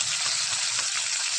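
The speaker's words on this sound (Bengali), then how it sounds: "পাতা ভেজে নিচ্ছে।" Spinach leaves sizzle and crackle steadily in hot oil in a pan, a continuous close frying hiss throughout.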